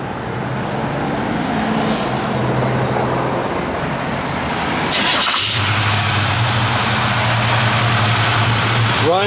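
A 1972 Chevrolet K5 Blazer engine cranks and catches, then settles into a loud, steady rumbling idle, close by.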